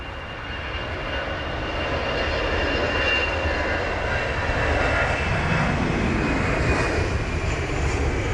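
Airliner in a striking polka dot livery climbing out of London Heathrow on a gusty, wet morning, its engines giving a loud, steady roar with a high whine that holds for the whole stretch, close and alone.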